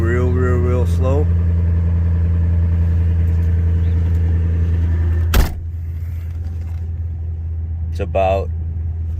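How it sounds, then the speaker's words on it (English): A car engine high-idles after a cold start, a steady, close, low rumble that continues unchanged. Someone talks over it, and a sharp click lands midway. "Now start it up. See how it's high idling and it's coming down slow, real slow."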